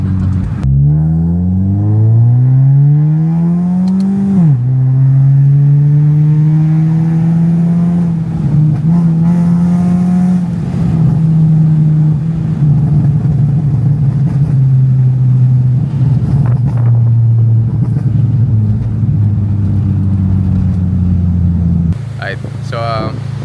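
An upgraded Honda Civic FD drones steadily while driving, its aftermarket exhaust rumbling up after an early rev and holding a low, even note throughout.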